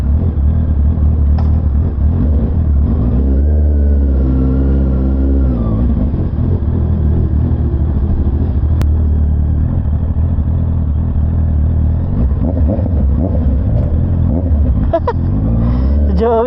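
Honda CBR 650R motorcycle engine running close by, a continuous loud rumbling idle with slight rises in revs, someone talking over it throughout.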